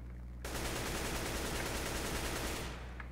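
An AK-47 fires a continuous full-auto burst in CS:GO for roughly two seconds. The spray is dense and loud over steady background noise, then cuts off abruptly.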